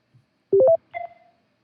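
An automatic phone dialer moves to the next number in a call center, giving a quick run of three or four clean dialing tones followed by a softer, longer tone, all in otherwise near silence.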